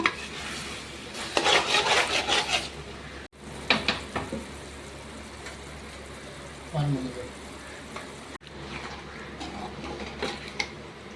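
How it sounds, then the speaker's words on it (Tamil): Jackfruit curry with chicken masala is sautéed over a low flame, with bursts of spoon scraping and stirring against the pan and a faint sizzle, while a person talks in between. "லோ ஃப்ளேமில் வச்சு நம்ம வதக்கிக்கலாம்."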